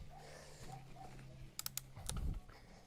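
A few isolated keystrokes tap on a computer keyboard, typed slowly with one finger, faint and close, with some low background hum.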